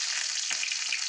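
Onion dropped into hot oil with black cumin seeds, giving a dense, bright, steady sizzle, close and loud, with one brief clatter partway through.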